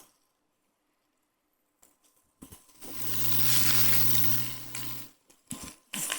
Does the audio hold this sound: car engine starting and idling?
no